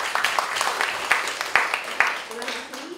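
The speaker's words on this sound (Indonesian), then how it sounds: "Boleh minta tepuk tangannya?" A seminar audience at a Tokopedia meetup applauds, with separate hand claps standing out in an uneven rhythm before fading toward the end, and speech mixed in.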